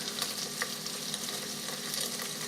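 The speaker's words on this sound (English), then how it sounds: "I'm going to let that bacon cook." Bacon frying in the pot of an electric pressure cooker gives a steady, close crackling sizzle with scattered sharp pops, heard alone.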